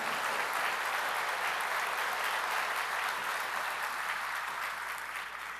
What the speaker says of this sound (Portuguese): E eu queria uma salva de palmas para o nosso SEBRAE.